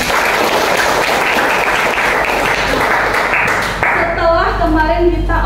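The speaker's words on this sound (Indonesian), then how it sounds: "Tepuk tangan dong untuk kita." Steady, dense applause from a crowd fills the room, then fades as a voice begins talking over it.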